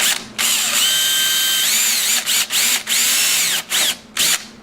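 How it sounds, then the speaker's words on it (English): A power drill with a bit of about 3/16 inch (4 mm) whirs loudly in several bursts on a Honda Sabre motorcycle, its pitch dropping and rising under load as it bites into material, with short pauses between. "we're going to drill that out and then extract it with a screw"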